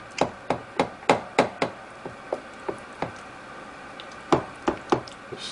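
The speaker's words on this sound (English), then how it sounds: "just gonna chop in here with the spatula" A spatula chops down through a homemade lasagna in the pan of a Ninja Foodi XL Pro Air Fry Oven, making a string of sharp knocking taps against the pan, evenly spaced at first, then sparser and softer, close and alone.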